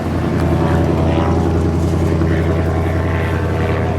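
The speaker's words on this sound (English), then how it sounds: "We got an airplane going overhead" A loud, steady propeller-plane drone overhead, constant and unbroken, filling the whole stretch with a deep engine hum.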